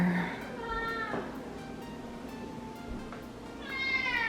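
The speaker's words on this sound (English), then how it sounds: "here's my cat that you hear once in a while. He likes to talk." A pet cat meows indoors in a house, with harmonic calls at the start and again near the end, faint room noise and a little background speech between them.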